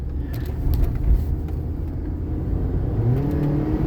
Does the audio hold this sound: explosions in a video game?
no